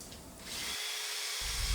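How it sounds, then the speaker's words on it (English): Power drill boring pocket holes with an Edge pocket hole guide into the head and bottom casings, a steady close whine that drops in pitch for a moment partway through and then picks back up. "Using the Edge Pocket hole guide, we drill close to the tip and square to the cut on head and bottom casings"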